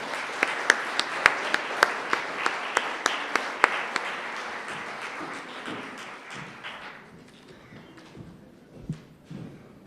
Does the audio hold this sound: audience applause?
yes